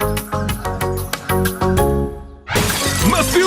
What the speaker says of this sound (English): The glass of the bottle, although heavily fortified to stop it blowing up in transit, is no match for 2 steel balls, a piece of string, and a stepladder.